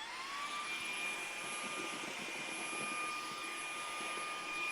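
A Fanttik V8 Apex cordless vacuum runs at max suction with a steady, loud whine and airy rush, holding an even high-pitched tone throughout.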